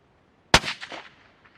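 A single sharp report from a 22-250 rifle at an outdoor shooting range, loud and close, followed by a short decaying echo and faint trailing reflections.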